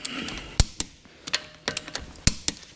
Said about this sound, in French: Donc serrage des roues à la clé dynamo, toujours